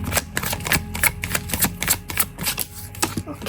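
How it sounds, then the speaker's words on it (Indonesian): Tarot cards being flipped and laid down in quick succession, a rapid run of crisp papery clicks and snaps, close and moderately loud, with no talking. "Aku akan buka 8 kartu"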